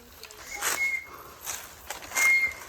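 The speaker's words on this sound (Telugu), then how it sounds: "నిజంగానే వేరే సోర్స్ లేక మేము నిజంగానే విజిల్ వేస్తున్నాం" Friends on a weekend outing whistling by mouth, a few short, bright tonal bursts with pauses between them, over faint shuffling and footstep-like rustle and no speech.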